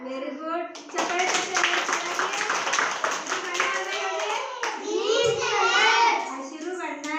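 A group of young children at an anganwadi preschool clap hands together, with steady overlapping claps mixed with excited children's voices throughout.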